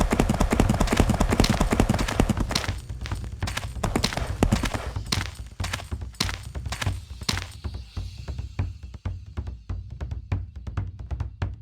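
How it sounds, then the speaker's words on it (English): A runaway horse in a Lionel Trains video game gallops with loud, rapid hoof clip-clops. The run is dense at first, then settles into distinct thudding beats that carry on to the end. "Runaway horse!"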